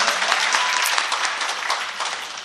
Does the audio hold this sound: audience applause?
yes